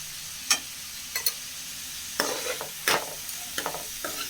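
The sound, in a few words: mixing cauliflower with turmeric in a pan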